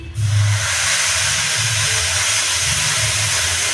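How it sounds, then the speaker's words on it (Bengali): Hot water poured onto fried rice in a pan hits with a loud, sustained hissing sizzle that bursts in suddenly and keeps steaming steadily to the end, with a low bubbling rumble underneath. "এখন আমি দিয়ে দেব গরম জল।"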